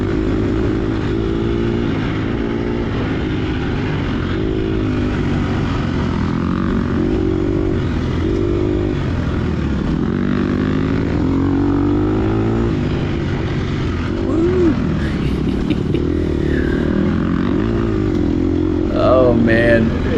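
A racing motorcycle engine in the TORCS racing game drones continuously at high revs, with pitch sweeping up and down through gear changes, loud and steady throughout, with no other sounds over it.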